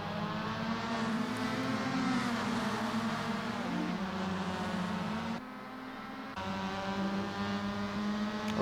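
Race cars lapping Tsukuba circuit during a club race event: a steady, loud engine drone with sustained tonal whine that dips briefly and then resumes, with no voices over it.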